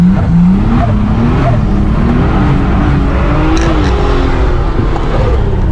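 A Nissan R33 Skyline engine revving with an Apexi FC and raised boost, a loud, steady, close engine drone with its pitch rising and falling gently across the whole stretch.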